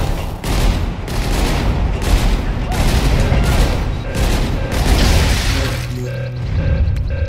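Assault rifle gunfire in the Beyond Flesh and Blood shooter game, loud sustained bursts of rapid fire with booming impacts, giving way to electronic tones at the end.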